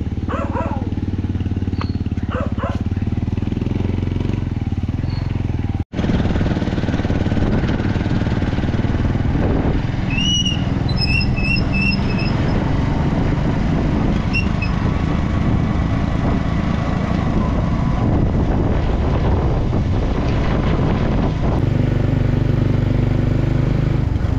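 A BMW motorcycle engine runs continuously and loudly close by, with a steady drone during riding and a brief dropout partway through.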